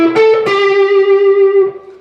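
Distorted electric guitar fill from a song, played alone: a couple of quick picked notes slide into one long sustained note that rings with a rich overtone stack, then fades near the end.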